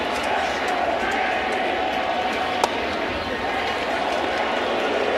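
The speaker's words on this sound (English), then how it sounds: "Crowd on its feet." A baseball stadium crowd on its feet fills the air with a steady roar of cheering, loud and unbroken throughout, with a brief sharp crack standing out near the middle.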